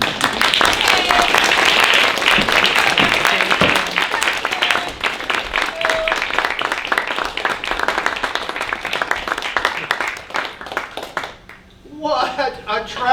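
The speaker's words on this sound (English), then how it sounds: "Let's have some applause." A theater audience at a live comedy stage show bursts into loud, sustained applause and clapping that gradually thins out before fading to near silence, followed by a brief sound near the end.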